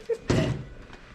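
A door thumps shut once in a single short, dull slam close by, with a brief faint sound just before it.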